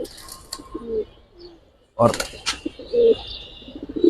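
Giribaz pigeons, a Bagha Makhra variety, give soft, intermittent coos close by, mixed with faint chirps and a few brief bursts of nearby noise.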